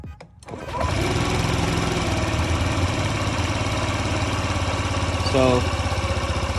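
A 2003 Honda Ruckus scooter engine cranks briefly and catches, then settles into a steady buzzing idle close by, with one short rev bump near the end.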